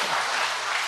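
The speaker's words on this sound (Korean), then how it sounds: "우리 하나님께 영광의 박수를 드리겠습니다" A church congregation applauding during a worship service, a brief burst of dense clapping from many people, steady and fairly loud throughout.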